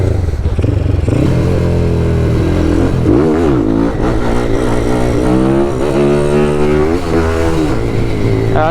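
A Honda Grom motorcycle engine revs loud and close, rising and falling through several throttle blips and gear changes with shifting pitch, no talk over it.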